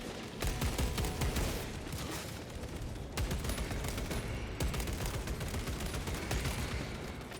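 Sustained, dense automatic gunfire in the Warhammer Space Marine 2 video game, loud and continuous bursts with hardly a pause, heard alone without speech.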